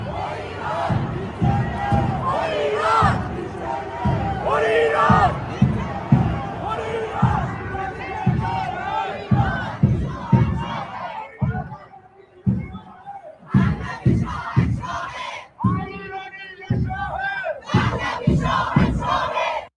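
A large crowd at an Iranian street protest chants a political slogan in loud, rhythmic unison, voices surging in repeated bursts with short gaps between phrases, dense and close with shouting throughout.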